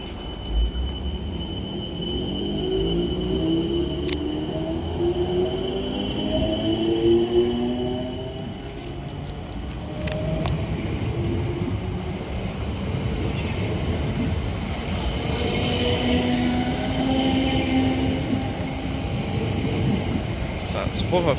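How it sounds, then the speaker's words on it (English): A South Western Railway electric train pulls out of Raynes Park station bound for London Waterloo, a steady traction hum and rising motor whine with wheel rumble, close and loud, a voice speaking over it. "getting ready to depart now is the 1319 South Western Railway service to London"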